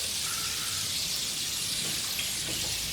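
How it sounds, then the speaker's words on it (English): Butter and herbs sizzle in a hot pan with a steady, bright frying hiss that holds at an even level, close and alone with no talking. "Sizzling, yeah?"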